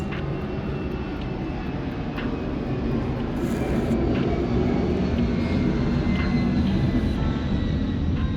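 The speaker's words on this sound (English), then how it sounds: "I am recording this outside, so occasionally planes fly overhead" A fixed-wing airplane passes overhead outdoors, its steady engine roar loud and continuous throughout, swelling slightly midway, with no voices.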